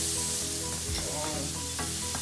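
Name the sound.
noodles, rice and mixed vegetables sizzling while frying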